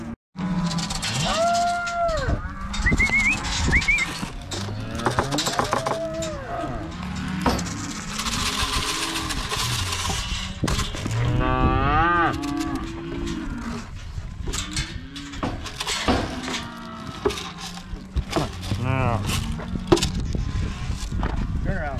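Cattle moo repeatedly at a Montana ranch round-up during shipping time, several calls near and far over a busy herd, with people talking and calling throughout.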